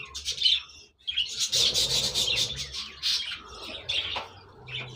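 Young birds and chicks in a breeding box cage give close, busy high chirps and tweets, with a light rustle of movement under them.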